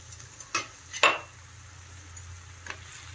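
A spoon scrapes and clinks a few times against a pan while crushed roasted peanuts are mixed into sabudana khichdi, under a low steady hum.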